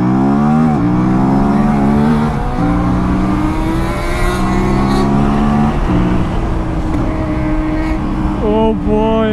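Aprilia RS 457 motorcycle on its loud stock exhaust, engine revving up and down in rising and falling sweeps, close and loud throughout, with a faint voice underneath.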